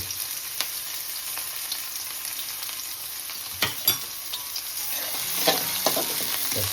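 Green chilli, onion and garlic frying in hot oil in a pan, a continuous bright crackling sizzle with a few sharper pops and stirring knocks, close and fairly loud.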